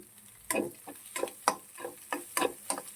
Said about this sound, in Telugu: ఇప్పుడు రైస్ అయితే వేసేసాను ఎగ్ ఆనియన్స్ బాగా వేగిపోయాయి